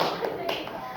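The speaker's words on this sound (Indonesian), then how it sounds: "Beri tepuk tangan untuk kelompoknya Reza." Short burst of clapping from a class applauding a student group in a school classroom; brief, close, irregular claps over roomy background noise.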